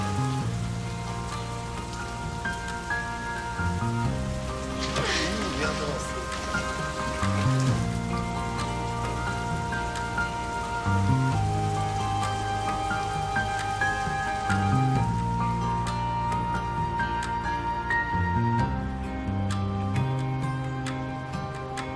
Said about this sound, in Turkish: Yağmur, yağmur, yağmur.